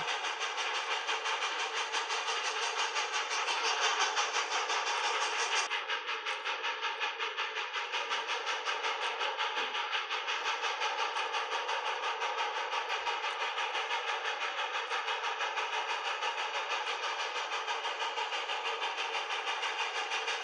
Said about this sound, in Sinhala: පොඩ්ඩක් ඉන්නකෝ කෝච්චිය බිංගේ පහු ගන්නකම්.